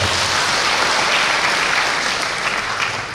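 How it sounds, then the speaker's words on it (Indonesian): Hearty applause from an audience at a Buddhist Dhamma sharing session, thick continuous clapping from many people, loud and sustained before tapering slightly at the end. "Tepuk tangan dulu luar biasa."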